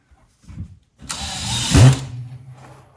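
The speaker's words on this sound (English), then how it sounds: "So if we go up the outside edge, we're just going about 9 inches, driving in screws." A power drill or screw gun drives a screw into drywall during a mobile home restoration, heard as a single close, loud whirring burst of about a second that winds down, after a brief knock.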